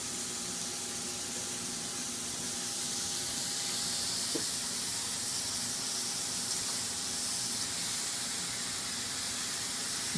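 Cecina, a cured meat, cooks in lard on a pan, giving a steady close sizzling hiss that holds evenly throughout, with no talk.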